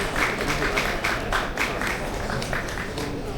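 Applause from an audience at an inauguration ceremony of an automotive battery and tyre trade association, a dense run of clapping that carries on steadily for a few seconds.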